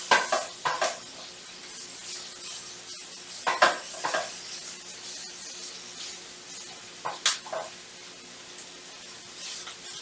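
Onion sizzling in olive oil in a pan, with a few sharp stirring and scraping bursts of utensil against the pan over a steady low frying hiss, heard close up.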